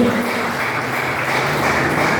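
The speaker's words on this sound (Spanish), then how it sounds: "den un fuerte aplauso al Señor" Church congregation at a Sunday fasting service applauding loudly to the Lord, a continuous, even roar of clapping that fills the room without pause.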